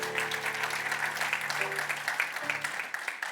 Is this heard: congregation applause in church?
yes